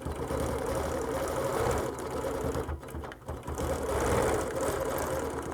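A sewing machine runs in steady rapid bursts while quilting clamshell half circles, close and continuous with a brief slowdown near the middle before resuming at full pace.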